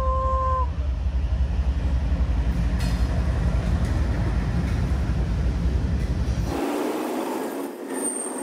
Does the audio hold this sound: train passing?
yes